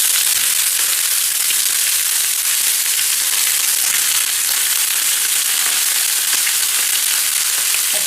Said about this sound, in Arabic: هنشويها هنا، نعمل لها صدمه بس كده. والخضار برضو هقلبه في نفس المكان بتاع الفراخ.